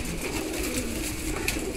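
Rampuri pigeons coo in a loft, with soft, overlapping calls over a steady, busy background murmur and no speech.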